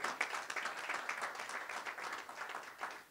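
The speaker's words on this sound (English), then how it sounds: "let's give him a round of applause." Audience applause at a policy discussion event, a fairly quiet but continuous patter of many hands clapping at a moderate distance, without speech.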